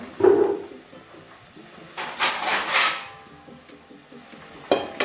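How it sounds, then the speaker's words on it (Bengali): A lid clatters onto a pan of cabbage being steamed for Bengali cabbage fritters: a sharp metallic clink near the start and another near the end, with soft hissing and kitchen clatter between. "এবারে ঢাকা দিয়ে দেবো ঢাকা দিয়ে সিদ্ধ করে নেবো"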